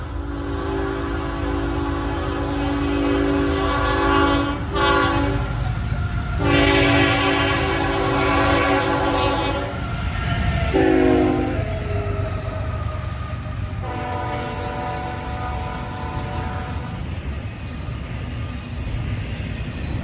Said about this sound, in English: Just as the locomotives of this southbound intermodal passed me by